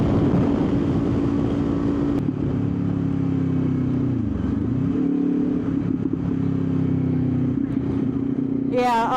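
A Ninja 500 SE motorcycle engine drones steadily up close, shifting pitch as it slows and picks up again amid surrounding city traffic.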